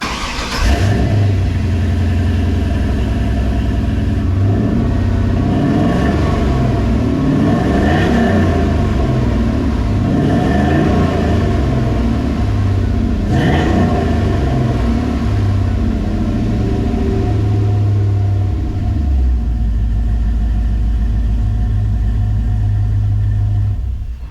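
A 1987 Chevrolet C10 truck with an LS 6.0L engine cranks and fires up, then idles with a loud, close, deep rumble and a few revs before settling back down.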